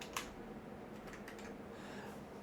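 Soft, rapid clicking of fingers typing on a computer keyboard, quiet and close against a steady background hiss, with no voices.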